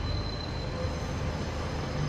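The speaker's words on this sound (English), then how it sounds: "a Supertram goes up above" Sheffield Supertram tram passing overhead at a railway station, a steady broadband rumble with rail noise holding evenly throughout, moderately loud and without voices.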